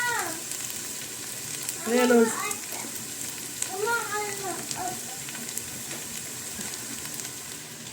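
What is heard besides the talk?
blended tomatoes sizzling in frying garlic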